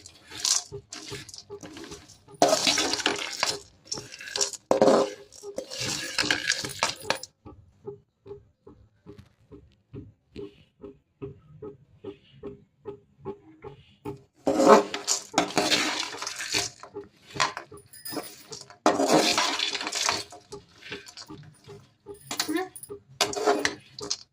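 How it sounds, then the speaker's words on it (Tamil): Watermelon seeds dry-roasting in a pan, a rapid run of small clicks and rattles as the seeds are stirred, with bursts of louder scraping and rustling separated by a quieter stretch of steady ticking. "தர்பூசணி விதை, இதை கொஞ்சம் வானல்ல பொன்முறையில் வறுத்து எடுத்துக்கணும்."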